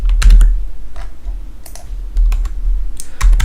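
Computer keyboard shortcut keys are pressed in a spreadsheet program: a few sharp, close clicks and clacks in a short irregular burst over a low hum, with no voices.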